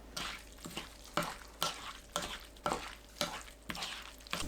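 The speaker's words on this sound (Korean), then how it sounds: "부추 섞어줍니다." Seasoned scallops being mixed with onion, green and red chili peppers and chives in a bowl, a run of wet, squelching tossing strokes repeating every half second or so, close and fairly soft, no talking.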